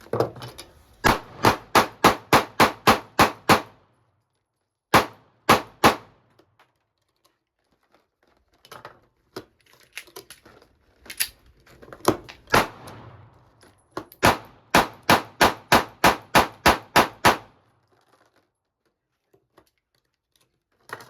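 Springfield Armory Hellcat pistol fired in quick strings during a high-round-count test: rapid runs of sharp, evenly paced cracks, with several shots per burst and short pauses between bursts, and no talking.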